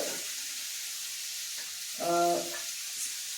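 Shallots sautéing in a pan for a Kerala beef roast give a soft, steady sizzle at low level, with a short tonal squeak of utensil on pan partway through.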